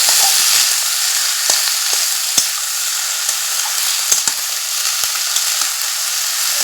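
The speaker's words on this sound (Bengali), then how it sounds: "কচুর লতি আর আলুগুলো একসাথে দিয়ে দেবো দিয়ে এইভাবে একটু উল্টো পাল্টা করে নাড়াচাড়া করে দেবো" Taro stolons and potatoes fry in a pan with a steady, dense sizzle, while a few sharp scrapes and knocks of stirring break through at irregular moments.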